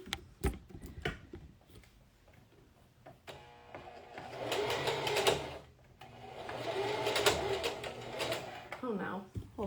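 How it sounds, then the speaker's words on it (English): A sewing machine topstitches a garment with bursts of fast, rattling, even stitching, with brief pauses between runs and a louder stretch near the middle, while a person talks over parts of it. "so I'm gonna go ahead and sew this at about 4/8 of an inch seam allowance"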